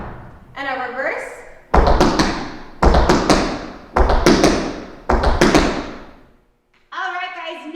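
Fast reverse cramp rolls in tap shoes: four crisp, loud clusters of quick metallic taps on a hard floor, evenly spaced, with talk at the start and end.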